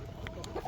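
A few short clucks from a chicken, close by, over a low rumbling background.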